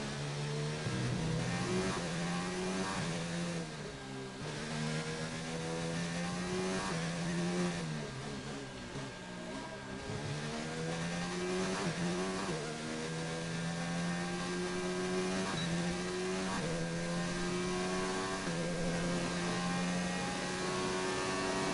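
Renault race car engine in the F1 2019 video game, driven through a qualifying lap in Australia: a loud, continuous high-pitched whine rising and falling through gear shifts, with braking dips and repeated revving.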